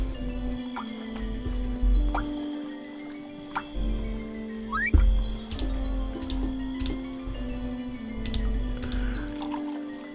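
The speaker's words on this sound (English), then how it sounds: "We need to water it." Water drips and pours onto a plant in the video game The Supper, a few soft liquid trickles and splashes over steady game music, with one brighter splash near the middle.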